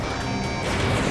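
A missile strikes its target in Ace Combat 7: a single short, loud crashing blast that fills the moment and cuts off abruptly.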